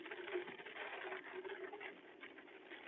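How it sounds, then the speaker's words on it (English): Steady rain patters down in a soft, continuous hiss, fairly faint and unbroken. "The rain is coming down"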